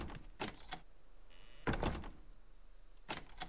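A door in the survival video game Subsistence opens in a few broadband clattering bursts, with a short mechanical rasp and a heavier thump midway, over a steady low game ambience.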